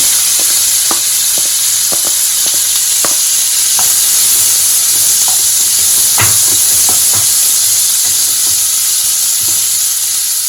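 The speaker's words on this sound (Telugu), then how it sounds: "ఇప్పుడు ఆయిల్ వేడెక్కిందండి. ఇప్పుడు ఇందులో ఉల్లిపాయలు వేసుకుంటున్నాను." Chopped onions frying in hot oil for egg burji, a steady bright sizzle and hiss with scattered small pops and crackles throughout, close and loud with no talking.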